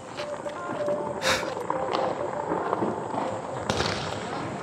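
A 12-shot aerial firecracker launched at a Diwali celebration in Kota gives a couple of sharp bursts and pops amid a loud, noisy festive crowd, with distant crackling and voices throughout.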